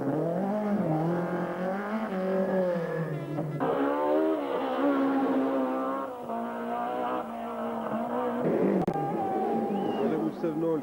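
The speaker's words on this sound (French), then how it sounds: "on trouve la première BMW M3 du régional Jean-François Mourgue en tête du classement promotion" A 1993 BMW M3 rally car races at the Critérium des Cévennes, its engine revving hard and shifting through gears up close, with tire squeal and a commentator talking over it.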